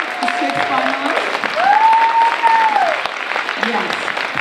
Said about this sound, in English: Please give a round of applause to all the 6 finalists.